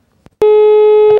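A telephone tone sounds when calling the police station in Girón: a loud steady tone begins after a short click and holds for nearly a second before cutting off.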